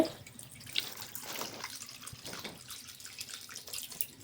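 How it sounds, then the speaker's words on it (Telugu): Juice extract trickles and drips into a pot of Andhra-style eggplant curry, a soft, close, uneven pour with small splashes, heard faintly on its own. "ఇప్పుడు ఈ రసం దీంట్లో పోసుకోవాలి"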